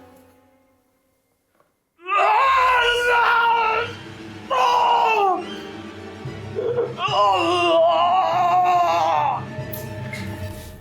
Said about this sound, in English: You start to hear a guttural scream from outside